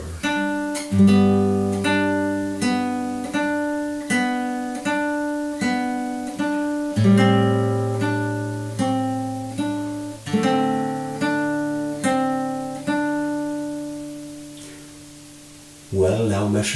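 Fingerstyle acoustic guitar plays a section of a song, steady plucked notes and bass tones falling in an even rhythm, each attack ringing and fading, close and clear throughout.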